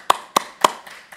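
Three sharp, close hand claps in quick succession, followed by two fainter ones, isolated against near silence rather than forming a crowd's applause.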